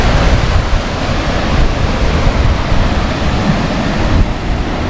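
Ocean surf crashes on a rocky shore in American Samoa, a loud continuous roaring wash of breaking waves mixed with wind noise.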